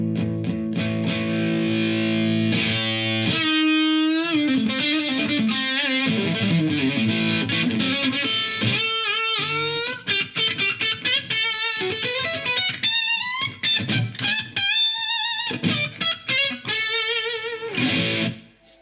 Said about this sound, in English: So I'm going to engage the boost now, which is foot switchable as well.